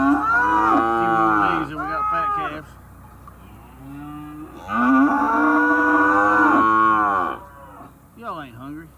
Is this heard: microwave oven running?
no